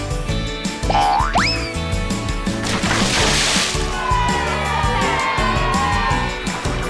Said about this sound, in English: Peppa jumped into the water on this side, and George on the other side did the same